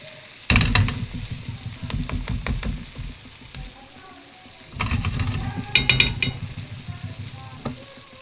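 A salmon fillet sizzles in a pan of butter with thyme and peppers while it is basted, the frying crackle punctuated by spoon scrapes and stirring clatter in two busy bursts separated by a quieter stretch.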